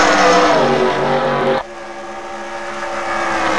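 NASCAR Nationwide Series race cars roar loudly at the green flag start of the Stater Bros. 300, a dense engine blare that drops sharply midway and then swells back up.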